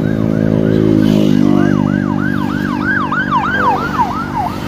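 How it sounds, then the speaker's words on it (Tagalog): An ambulance siren passes on the road close by, a loud, steady wailing that rises and falls in a repeated pattern for the whole stretch, with no talk. "Mayroon tumaan na ambulansya."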